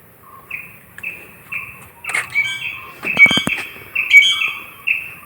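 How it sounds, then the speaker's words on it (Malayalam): Birds call in a cardamom plantation in the foothills near Thekkady, with repeated clear chirps and whistles at a steady rhythm, several overlapping calls and a burst of sharper squawks midway, fairly close and without talk. "ചില കിളികളുടെയൊക്കെ സൗണ്ട് കേൾക്കാം,"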